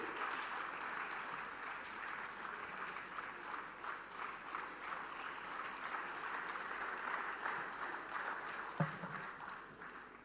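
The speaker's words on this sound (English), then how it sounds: "Ladies and gentlemen, a huge round of applause for Reddy ji." An audience at an international temple convention and expo in Varanasi, 2023, claps in a sustained round of applause, dense and even throughout.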